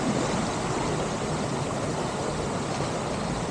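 Water rushing steadily at Nonok Falls in Real, Quezon, a close, loud, broadband roar of cascading flow with no voices over it.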